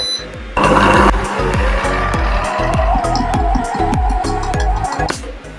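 Compact cook kitchen machine mixing a cake or hummus preparation at speed 4, a close steady motor whir with a rapid rhythmic knocking churn throughout, no talk.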